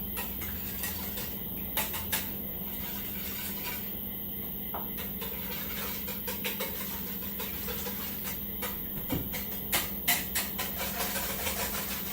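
An egg beaten in a bowl, a run of light, quick clinking taps that come in uneven bursts and grow busier toward the end, close by with a faint steady hiss underneath.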